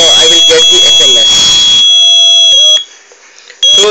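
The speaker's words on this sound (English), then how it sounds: "So the buzzer should be on." The buzzer of an ARM and GPS-based accident alarm system sounds: a loud, steady electronic tone that starts after someone talks, stops briefly, then resumes.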